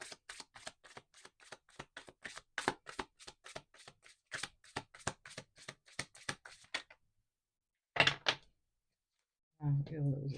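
Tarot cards riffle and flick in a rapid run of crisp snaps, then stop; after a pause one card is drawn with a short slap, followed by a brief voice.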